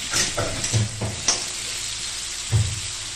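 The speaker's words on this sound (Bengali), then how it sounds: "আলুগুলো সুন্দরভাবে একটু ভালোভাবে ফ্রাই করতে থাকবে।" Potatoes fry in a pan for vegetarian Bengali alu posto, with a soft steady sizzle and several separate scrapes and knocks of stirring, the last one louder near the end.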